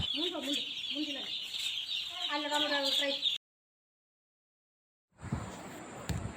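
A poultry farm of about 6000 chickens, with 21-day-old broiler chicks, gives off dense clucking and peeping over a steady hum of farm equipment. The sound cuts out into silence, then returns as a noisier shed ambience.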